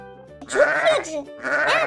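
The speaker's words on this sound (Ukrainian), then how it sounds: "А це кого ми почули? Вівцю." A sheep bleats twice, close and clear, each a wavering, nasal cry separated by a short pause.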